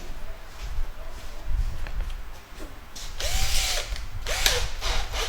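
Power drill boring holes from the top for minifix furniture fittings using a jig, several short close whirring bursts with ratcheting clicks.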